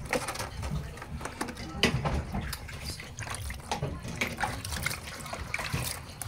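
Water splashes and trickles continuously while a pet is bathed for the first time, with scattered sharp splashes over a steady wet background and voices talking nearby.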